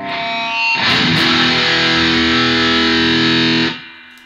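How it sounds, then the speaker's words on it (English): Raw black metal electric guitar with heavy distortion and lots of reverb rings out as a loud sustained chord, swelling in and then cutting off sharply, leaving a fading tail. "of course we need some reverb"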